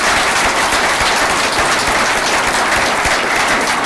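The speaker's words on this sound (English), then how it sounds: "Can we get a round of applause for our speakers?" Sustained, dense applause from an audience at a lecture series on water and drought, steady and loud throughout with a wash of many hands clapping at once and no talk over it.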